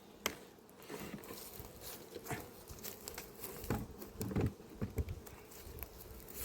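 Honeybees buzz at an apiary hive during an inspection of a split colony, a steady insect hum with scattered close wingbeat passes and light knocks, fairly faint throughout.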